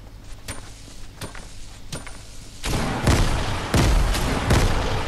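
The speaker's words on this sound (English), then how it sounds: "somebody's shooting us" Gunfire in Fortnite Chapter 2 Season 2 starts as distant sparse shots and turns into louder, heavier bursts of rapid fire that stay close and repeat.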